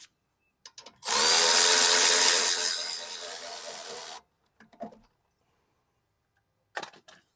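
Power drill or impact tool spinning out the 14 mm caliper bolts on a Nissan Infiniti brake, one loud close whirring burst of about three seconds, followed by a few faint clicks and handling noises.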